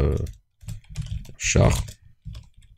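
Someone types C code on a computer keyboard, producing quick clusters of close key clicks with short pauses between them, while a person talks over the typing.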